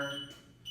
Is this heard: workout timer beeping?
yes